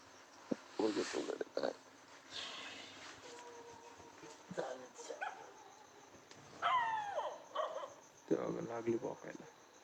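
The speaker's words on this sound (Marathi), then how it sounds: "कुत्रे भोकू राहिलेत" At night in a village during a fair, several dogs bark, yip and whimper in intermittent close bursts, with people's voices in between.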